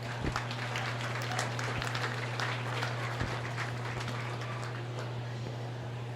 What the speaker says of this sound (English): Let's give this heavyweight gilt class a round of applause.